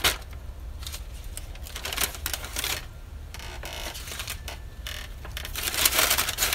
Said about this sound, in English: So you're gonna open up the bag and stuff it with your pieces of paper.